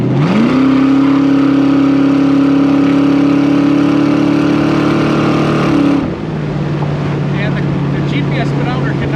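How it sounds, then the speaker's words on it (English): The 365HP small-block V8 of a 1966 Shelby Cobra replica revs from the driver's seat, a loud, close, rising engine roar that holds steady for several seconds, then drops sharply to a lower, quieter drone as the throttle lifts. "Let that small block breathe a little bit."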